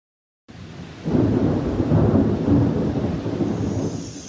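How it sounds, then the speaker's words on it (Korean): A thunderstorm with strong wind and heavy rain breaks in after a moment of silence, a loud sustained rumble of thunder over a dense roar of downpour that continues to the end. "천둥 번개와 함께 강풍이 몰아칩니다."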